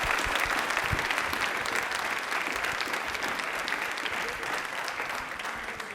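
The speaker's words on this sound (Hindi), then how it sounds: "तालियां भी बहुत जोरदार बजा दीजिए" Studio audience applause on a televised quiz show, dense and continuous clapping from a crowd, loud and even across the whole stretch with no pause.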